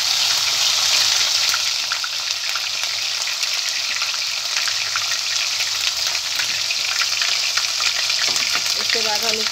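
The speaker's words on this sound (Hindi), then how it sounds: "ये हमारा लहसुन अदरक थोड़ा सा भुन जाएगा।" Garlic and ginger fry in hot oil in a pan, a steady, bright sizzle with crackles that holds evenly throughout, loud and close.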